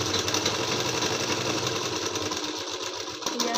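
A sewing machine stitches the folded hem of a net-fabric kurti with lining, running in a steady, continuous mechanical whir at close range for the whole stretch, with no talking.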